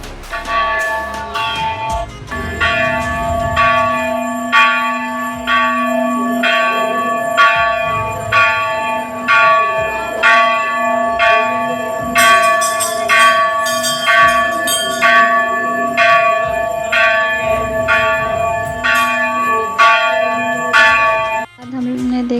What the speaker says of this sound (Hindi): और ये बाबा घंटी बजा रहे थे।